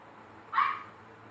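A single short dog bark or yip rings out from a household dog, a brief moderately loud call standing alone against a quiet room hum.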